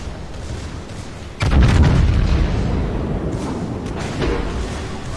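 A heavy salvo from the Yamato battleship's main guns in World of Warships booms out suddenly, a deep loud blast that rolls into a rumbling tail, with a lighter thud following later.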